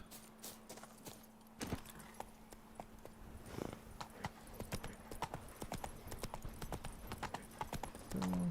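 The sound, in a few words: horse Roach galloping in video game The Witcher 3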